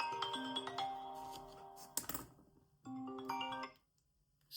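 A mobile phone rings nearby with a melodic electronic ringtone in two bursts, separated by a brief clatter and a short pause. The tone is loud and steady, and no one speaks over it.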